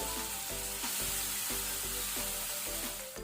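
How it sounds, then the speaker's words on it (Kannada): Three large onions fry with curry leaves over a medium flame for a Mangalorean crab masala. A steady, close sizzle fills the pan, broken by regular stirring strokes about twice a second. "ಈಗ ನಾವು ಈರುಳ್ಳಿಯನ್ನು ಕಲರ್ ಚೇಂಜ್ ಆಗೋ ತನಕ ಫ್ರೈ ಮಾಡ್ಕೊಳ್ಳುವ ಮೀಡಿಯಂ ಫ್ಲೇಮಲ್ಲಿ."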